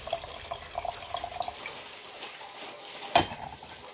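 Water poured over 2011 qi ze bing cha tea leaves to rinse them, a faint, steady splashing trickle with a small clink near the end.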